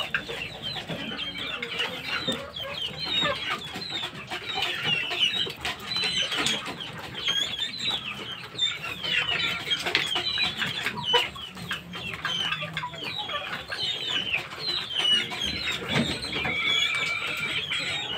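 A molting rooster clucks in soft, repeated bursts, with other chickens nearby and some wing flapping. The birds sound fairly close but quiet, and there is no talking.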